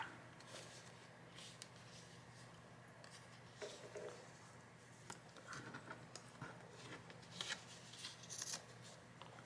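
Scissors trimming paper for a handmade Little Golden Book journal, faint close snips and light paper rustling in a quiet room, with no talking.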